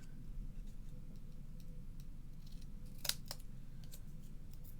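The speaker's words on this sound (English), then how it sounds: "See now, I can trim that down a little bit" Scissors trim paper for an Easter peek-a-boo card: two quick, faint snips close together midway, over a steady low background hum, with no voices.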